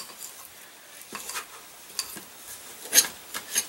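A fork stirs a mixture by hand in a bowl while bacon-wrapped jalapeno peppers are being prepared: soft, scattered scraping and rubbing strokes at an unhurried pace, quiet and close, with one sharper clink near the end.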